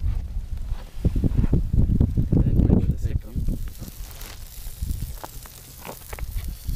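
Gusty wind on a frozen lake before a storm during ice fishing, buffeting the microphone in a heavy low rumble that surges strongest early, then eases into softer gusts.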